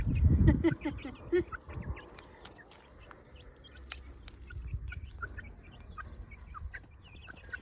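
Chickens cluck and chirp in short, scattered calls, some close and others softer, with faint background noise throughout.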